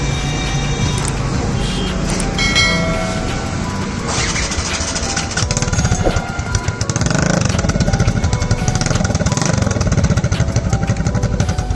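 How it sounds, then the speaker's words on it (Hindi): A TVS Ntorq scooter engine running with its exhaust removed gives a loud, close, raw mechanical rattle and buzz, idling roughly and then revving harder and denser toward the end. "गाइस एक बार इसका एग्जॉस्ट मतलब विदाउट एग्जॉस्ट नोट सुनो कैसा लग रहा है"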